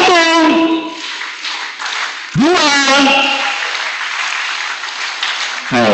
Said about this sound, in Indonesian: kalau saya bilang 2, maka tepuk tangannya berubah